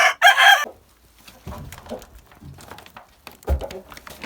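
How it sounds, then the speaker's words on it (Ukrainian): A Livenska chintz hen gives a short, loud burst of clucking at the start, followed by quieter scattered poultry sounds and rustling. "Це лівінська ситцева курочка."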